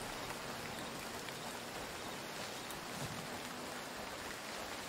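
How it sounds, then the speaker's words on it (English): Steady rain falling in the open-world survival game Retreat to Enen, a dense, even hiss of drops on surfaces that continues without a break, heard alone. "It's all rainy."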